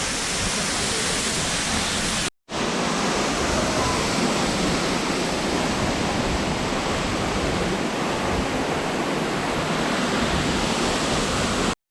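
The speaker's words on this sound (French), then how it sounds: "Il pleut vraiment, c'est waouh." Heavy tropical rain in Indonesia pours in a dense, constant roar, loud and close, with a brief dropout early on.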